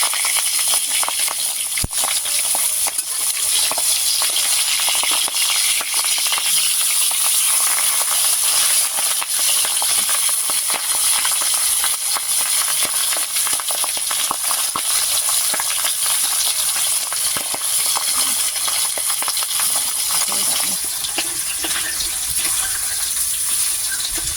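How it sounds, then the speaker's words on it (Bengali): Pabda fish frying in mustard oil in a kadai, a loud, dense and unbroken sizzling hiss heard up close, with faint stirring movement and no talking. "এবারে মাছগুলো আমি উল্টে দেব, দিয়ে ভালো করে লাল লাল করে ভেজে নেব।"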